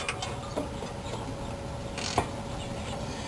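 A ratchet wrench works on a serpentine belt tensioner, making quiet, sparse mechanical clicks and a few sharper ratcheting ticks over a low background hum, with no voices.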